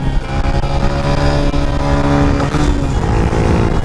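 Honda Wave motorcycle engine revving in second gear, a loud, steady, close engine drone that rises and falls slightly in pitch over several seconds.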